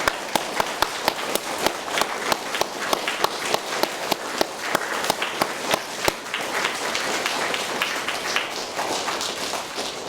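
Schoolchildren clap at a junior school prize giving, a steady patter of many hands with sharp individual claps standing out, sustained for several seconds in a hall.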